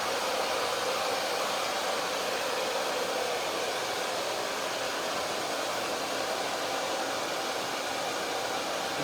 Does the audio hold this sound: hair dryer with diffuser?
yes